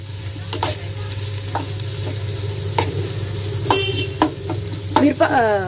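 Egg bhurji sizzles steadily in a pan while a spoon stirs it, with scattered scraping clicks and a bright burst of frying near the end; no talking.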